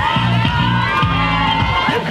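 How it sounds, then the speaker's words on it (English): Crowd of cheerleaders from local schools cheering and shouting for children walking past at a charity walk, a dense, continuous wall of excited voices and whoops throughout. "Some of the cheerleaders from all the local schools are there cheerleading on the kids as they walk by"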